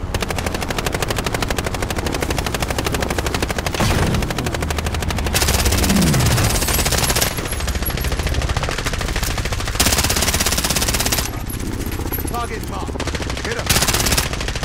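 Automatic gunfire aimed at a helicopter in the video game Call of Duty: Modern Warfare: rapid, sustained bursts of shots that stop and start in several long volleys over a constant rotor roar nearby.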